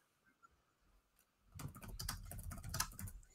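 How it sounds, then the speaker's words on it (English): Keys clatter on a computer keyboard in a fast, steady burst of typing that starts after a quiet moment and runs close and fairly loud to the end. "I can hear typing."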